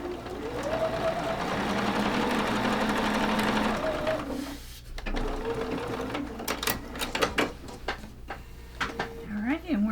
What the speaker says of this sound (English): we're going to take fabric J and sew that to the top.